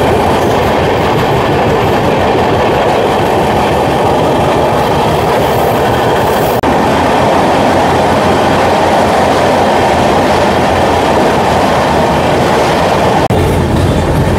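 A Howrah to Puri passenger train in motion, heard as a steady loud rumble with rhythmic clickety-clack of wheels over rail joints and a brief shift in tone near the end.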